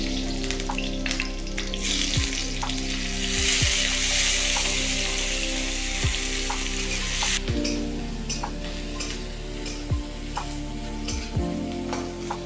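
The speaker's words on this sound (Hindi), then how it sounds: "इसको इसमें मिर्चा को डाल दिए दीदी ने।" Chillies dropped into hot oil in a home kitchen sizzle and crackle steadily, with intermittent sharp pops and occasional clinks of a utensil against the pan, close and loud throughout.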